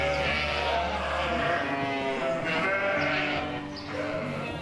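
Goats on a farm bleating, several wavering calls overlapping with a low droning tone beneath, moderately close and fairly loud with no speech.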